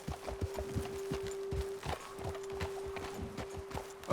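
Horse hooves clip-clop in a Red Dead Redemption 2 game scene, a steady run of close, distinct hoof strikes over a constant tonal hum, ending as the riders dismount.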